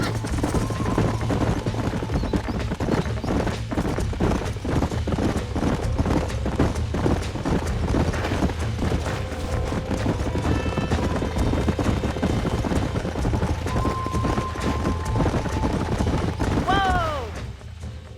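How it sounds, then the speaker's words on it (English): Horse hooves clip-clop in a steady, brisk rhythm across Red Dead Redemption's open country, close and continuous for most of the stretch, with a voice talking over them and a whinny near the end as they stop. "These are fine horses."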